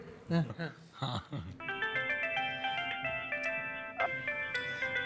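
A mobile phone ringtone plays as a steady, bright electronic melody of sustained tones, starting after brief talk and continuing at moderate volume for several seconds, restarting its phrase near the end.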